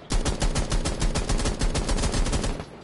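Rapid automatic gunfire from Rainbow Six Siege, a dense stream of loud, close shots in a steady fast rhythm running nearly three seconds without pause.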